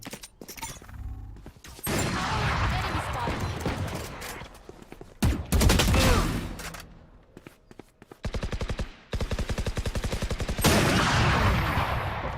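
Dense bursts of automatic gunfire from a Valorant match ring out while the spike is being planted, loud and close, with rapid clattering volleys broken by brief pauses and a sharp crash.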